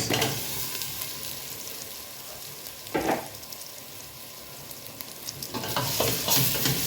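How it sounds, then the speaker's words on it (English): Meat frying in a pan with spices, being stirred: a steady sizzle with scraping stir bursts around the three- and six-second marks, close and moderately loud, no talk. "Give it a good mix until it is nicely combined with all the spices and it's a bit fried"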